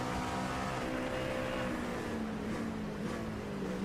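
LMP2 prototype race car in a racing game heading into a chicane, a steady loud engine drone with a slowly falling pitch under a broad roar of other cars.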